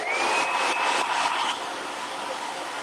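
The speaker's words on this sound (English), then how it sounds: "Hitting it with the blow dryer just for a second." A hair dryer blows with a steady whirring hiss, close by, dropping slightly in level partway through.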